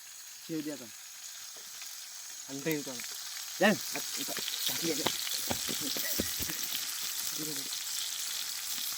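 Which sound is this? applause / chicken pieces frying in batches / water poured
chicken pieces frying in batches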